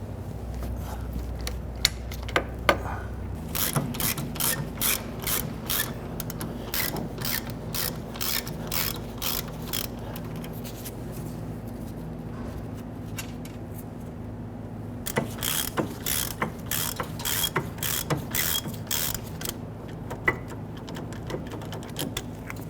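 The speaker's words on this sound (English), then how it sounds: "I'll go ahead and pop a ratchet onto them" Repeated ratchet clicking while loosening bolts on the rear brake of a 2006-2012 Toyota RAV4, fast bursts of close, crisp ticks with pauses between, over a low steady hum.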